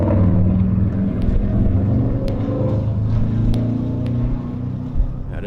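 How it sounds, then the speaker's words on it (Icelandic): A motorcycle passes close by at a car racing event, its engine a loud, steady roar that fills the whole stretch with little rise or fall. "Það eitthvað mótorhjól að fara hérna hjá okkur eða eitthvað."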